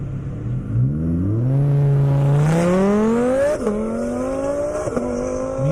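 A Ford Mustang GT500 launching in a half-mile drag race on an airport airstrip, its engine roaring loud and rising steadily in pitch through the gears, with short dips at each shift before climbing again.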